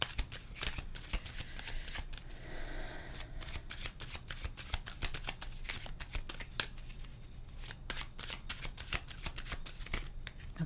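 Tarot cards shuffled by hand in a steady run of quick riffling, flapping snaps that continue for several seconds, close-up and fairly quiet.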